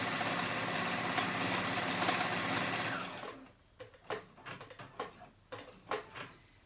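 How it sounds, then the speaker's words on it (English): A cover stitch machine sews children's pants fabric with a dense, even mechanical whir for about three seconds, then stops, leaving scattered light clicks and handling knocks nearby. "This is the reason why I use my cover stitch more than my sewing machine"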